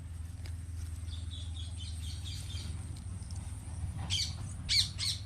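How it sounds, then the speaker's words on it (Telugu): Birds call in a mango orchard, with faint scattered chirps and squawks over a low steady rumble, then a few sharper, louder calls close together near the end. "మీకు బర్డ్స్ సౌండ్స్ వినిపిస్తూనే ఉంటుంది"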